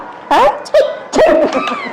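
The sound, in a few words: dog barking at a Dubai pet market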